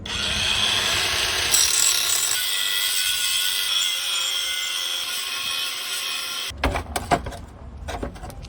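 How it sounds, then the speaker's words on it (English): A power tool cuts the bolts off the base of an AC induction motor, a steady grinding, rasping whine held for several seconds, then it stops and gives way to a few clanks and knocks. "I think I'm going to actually cut the bolts off to get rid of the base."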